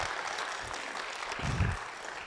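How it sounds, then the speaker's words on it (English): A symposium audience applauds students who presented their research, steady dense clapping from many hands throughout, fairly soft and distant, with no talk over it. "please just give them a very nice round of applause."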